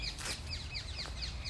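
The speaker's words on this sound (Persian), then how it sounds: "صدا پرنده ها رو" Birds in Richmond Park, London, call repeatedly with quick, high descending chirps in a steady series, fairly faint over a low outdoor background rumble.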